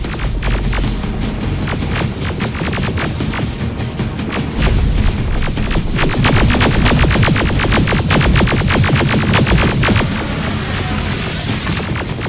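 Rocket blasts and heavy gunfire in the shooter game Terminator Resistance, a dense, loud barrage of rapid cracks and booming impacts that keeps going without a break, with no voices.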